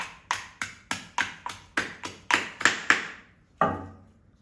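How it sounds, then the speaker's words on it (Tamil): Kuppaimeni leaves being pounded by hand for a skin remedy: about ten sharp, evenly spaced thuds in a steady rhythm, close and clear, then a short pause and one final heavier blow, with no talking. "இன்னும் கொஞ்சம் நல்லா இடிச்சுக்கலாம்"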